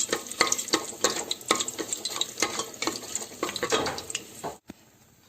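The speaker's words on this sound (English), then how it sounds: "the cardamoms, the bay leaves, and saute for around 1 minute" Cardamoms and bay leaves sautéing in a pan for chicken biryani, a steady close sizzle with scraping stirs and light taps throughout, then cutting off abruptly near the end.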